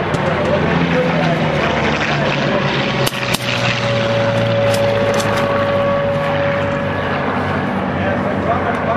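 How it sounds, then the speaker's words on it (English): A loud, steady propeller aircraft drone fills the air, with a sustained engine hum and roar that stays strong throughout, as Grumman warbird fighters fly overhead at EAA AirVenture Oshkosh 2008. "As the Grumman fighters come into view"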